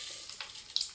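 Mustard seeds crackling and sizzling in hot oil for a lemon pickle tempering, a steady bright hiss with a few sharp pops near the end, close and alone.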